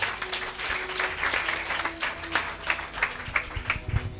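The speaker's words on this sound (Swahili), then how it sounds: "Tupigie Pastor Gaga makofi" A church congregation at an ordination ceremony applauds Pastor Gaga. Many hands clap together in a lively, fairly close burst that holds steady for several seconds, with faint voices mixed in.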